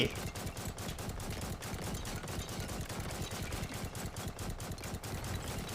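Guns in a video game shoot at a Lego Titan, giving rapid, evenly spaced bursts of shots that continue without a break.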